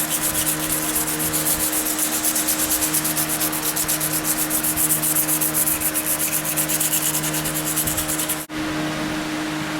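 Close, steady scrape of 220 grit sandpaper rubbed by hand along a knife handle, continuous, even strokes for most of the stretch before a brief pause near the end.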